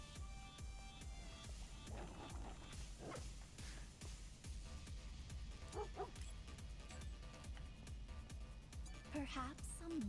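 A dog from the video game Stellar Blade yips and whimpers in short bursts over a busy, loud game soundscape with music and rhythmic effects.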